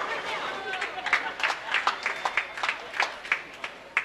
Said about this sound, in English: A little bit of noise going in for cheering for the Koreans